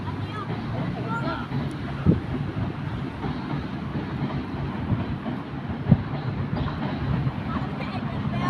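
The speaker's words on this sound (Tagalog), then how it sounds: "Haba ng tren na yan." A long train rolls past steadily with a continuous low rumble and faint clickety-clack, mixed with wind buffeting the microphone and a couple of brief knocks, while people talk nearby.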